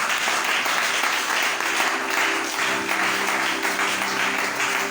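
A church congregation applauds in a sustained wash of clapping that continues steadily for several seconds, with faint voices and a low musical tone underneath.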